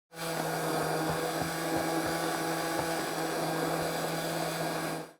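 Blender pureeing carrot ginger soup, a loud, steady motor whir with a constant hum, running unbroken for about five seconds before cutting off abruptly.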